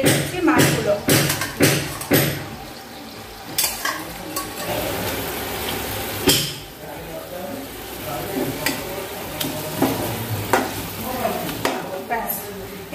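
Fish going into a pan of yogurt sauce to cook, with clattering, stirring and sizzling sounds at close range and several sharp knocks early on, while a voice talks over it.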